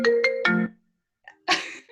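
A phone ringtone plays a short chiming melody of a few bright repeated tones, cuts off, then resumes after a brief pause, loud and close in a quiet room during an online meeting.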